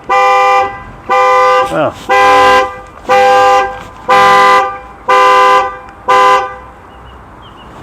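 A Volvo C30 car alarm blares close by in repeated long horn toots, about seven evenly spaced blasts with one wavering siren-like sweep among them, and a brief voice exclaims once.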